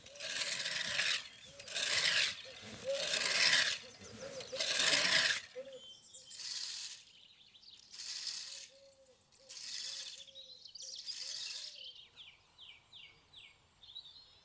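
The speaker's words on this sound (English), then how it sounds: "So now I've raked the grass to make it stand on end" Lawn grass being raked quickly early in the season to lift matted blades: repeated scratchy raking strokes in a steady back-and-forth rhythm, close and fairly loud at first, then softer, with a light rattle near the end.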